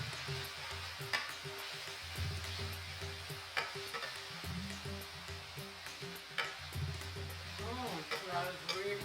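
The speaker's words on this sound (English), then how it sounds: "I'm going to give this a stir, let this cook for about a minute until tender." Garlic, peppers and shadow benny stirred in a pan, with a soft sizzle and intermittent scrapes and clinks of a utensil against the pan, close and steady throughout.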